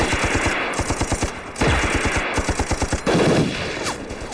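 A Japanese heavy machine gun fires in a wartime battle scene, loud close bursts of rapid evenly spaced shots with short pauses between volleys and no voices.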